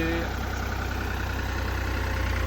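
A Farmtrac 45 tractor engine idles close by, a steady low rhythmic diesel throb with a constant even hum throughout and no talk.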